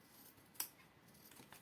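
Scissors snip through paper during a home autumn decor craft, one crisp close cut standing out against quiet rustling, followed by a couple of fainter snips.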